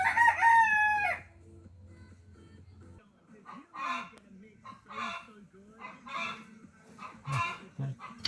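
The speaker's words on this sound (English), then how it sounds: "hopefully it's the rooster going off out there" A rooster crows once outdoors near a garden, a loud, close, strained call lasting about a second. Quieter bursts of speech and activity follow.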